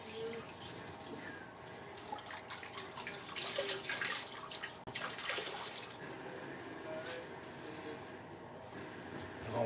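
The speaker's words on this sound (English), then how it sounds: "I'm just gonna wash the cutting board." Tap water running steadily into a kitchen sink as a cutting board is washed, a close, continuous rushing stream with splashes and clatter, carrying on for about ten seconds while someone speaks intermittently.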